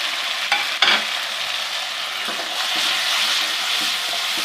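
Ginger garlic paste frying in a pan with golden-browned onions, a strong continuous sizzle with a couple of sharp stirring knocks early on, the hiss swelling a little in the second half.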